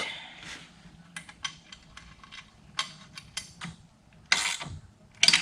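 A screwdriver tightens screws on motorcycle floorboards on a Can-Am Spyder F3, giving irregular bursts of ratcheting mechanical clicks with quiet gaps between them and two louder bursts near the end.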